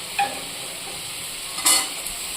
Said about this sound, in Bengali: আর আমি ঝিঙেটা দিয়ে দেবো।